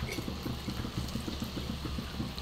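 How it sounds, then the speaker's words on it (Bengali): Battered cabbage pakoras deep frying in hot oil, a continuous bubbling sizzle with dense crackling that stays steady and close throughout. "তারপর এই রকম করে বড়ার আকারে ভেজে নিচ্ছি।"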